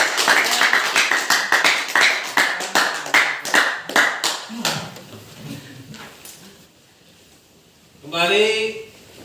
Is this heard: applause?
yes